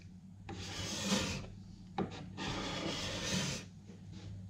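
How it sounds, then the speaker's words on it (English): Hand scraper shaving an oak window sill: two faint, drawn-out rasping strokes a couple of seconds each, close up and quiet, with a brief scrape between them. "You can tell when the scraper is starting to get blunt and need to be redone when it doesn't take off"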